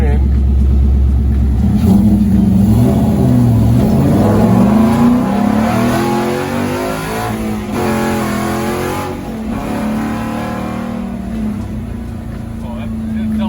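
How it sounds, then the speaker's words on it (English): A Ford Fusion with a swapped Coyote V8 and 4.09 gears pulls away, its engine revving up in loud rising surges with gear-change dips, heard up close from inside the car. "Oh, that accelerates so much better."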